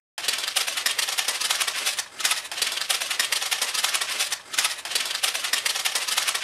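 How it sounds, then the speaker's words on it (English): Scissors snip and crinkle through a sheet of aluminum foil in a steady run of close, bright, crackling cuts, with only two brief pauses and no talking. "I don't know what the noise of the aluminum foil is going to do to the camera mic."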